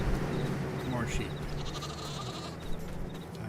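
Sheep and lambs of two different breeds bleat in a farm barn on a snowy day, a few wavering calls rising over steady background noise and talk.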